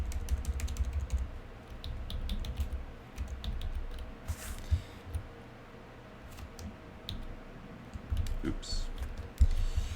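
Rapid typing on a computer keyboard while configuring a database on a remote server, with close, irregular clicky keystrokes over a steady hum and one brief spoken word.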